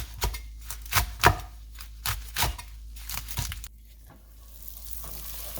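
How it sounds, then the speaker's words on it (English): Kale being rough chopped with a knife on a cutting board, about a dozen quick uneven thuds close by, then a brief quiet stretch, with no talk. "You can rough chop the kale."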